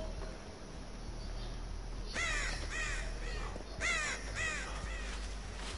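Crows cawing in a survival video game, several harsh caws in two bursts over a steady ambient hiss, moderately close and with no talking.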